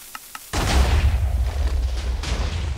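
Airship guns blow up in Minecraft, with a couple of faint pops first and then a sudden loud sustained rumbling explosion that keeps churning at close range.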